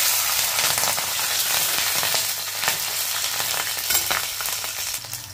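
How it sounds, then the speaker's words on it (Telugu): Curry leaves and green chilies fry in hot oil for a spicy prawn and chana dal curry, giving a steady, dense crackling sizzle that stays loud and close throughout, with no voices. "ఇదిగోండి కరివేపాకు వేసుకున్నాము పచ్చిమిరపకాయలు"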